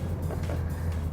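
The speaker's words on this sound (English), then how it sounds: "this is a diesel-powered full-size van, and as full-size vans go, this baby has a bit of zip in it" A Hyundai Grand Starex diesel full-size van hums with a steady low engine drone under acceleration, heard from inside the cabin with no talk.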